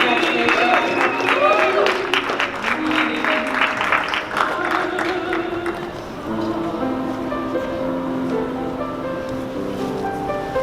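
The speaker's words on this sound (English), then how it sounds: "Round of applause, ladies and gentlemen." Audience clapping at an SDG Convergence event, a dense round of applause with whoops and voices that gives way to tonal background music and talk.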